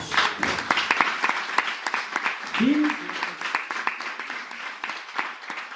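A church congregation bursts into lively applause, many hands clapping continuously while a pastor speaks in Spanish and calls out over the clapping.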